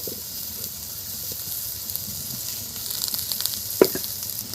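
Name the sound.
green chillies sizzling in hot oil with betho greens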